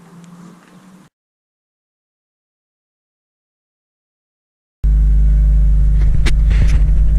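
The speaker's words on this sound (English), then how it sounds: "Just letting the car warm up." A car engine rumbles steadily at idle, loud and close, after a brief quieter stretch and several seconds of silence.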